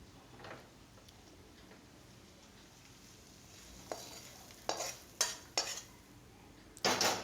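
Tamarind rice paste for Melkote puliyodharai being stirred and mixed in a pan, mostly quiet at first, then a few sharp scraping clacks of a spoon against the vessel near the end.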